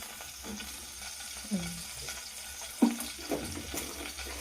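Half a tablespoon of oil and cumin seeds sizzle in a pan with a soft, low crackle, broken by a couple of brief scrapes and clinks of stirring.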